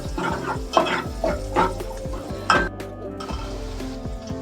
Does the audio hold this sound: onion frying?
yes